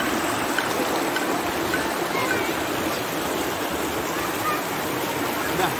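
Curug Citeureup Asri waterfall in Bogor roars with a loud, steady, dense rush of falling and flowing water that fills the whole scene without pause.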